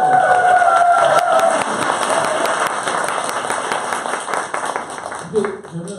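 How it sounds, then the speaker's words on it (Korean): A studio audience applauds and cheers on a Korean talk show, a loud burst of clapping that thins out over several seconds, mixed with voices. "박수 한번 주세요"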